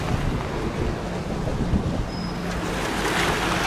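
Fast-flowing high water on the Rhine river beside a ship parking area, heard as a steady, broad rushing wash with wind noise, continuous and fairly close with no talking.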